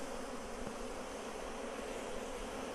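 Dense, steady buzzing of many honeybees around a hive being smoked, continuous and fairly close, with no voices.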